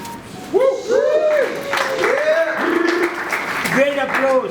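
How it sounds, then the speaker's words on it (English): A crowd applauding at a mental health expo in Jerusalem, steady clapping throughout with a voice calling out over it. "Great applause"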